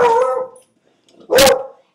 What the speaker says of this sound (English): my dogs are going crazy over something